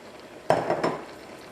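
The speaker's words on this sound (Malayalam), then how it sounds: "ഇനി ഇതിലേക്ക് നമുക്ക് പഞ്ചസാര ചേർക്കാം." Sugar poured into a pot of paal payasam, a sweet Kerala milk and rice pudding, followed by a short burst of spoon scraping and clinking against the pot, close and brief, with no talk.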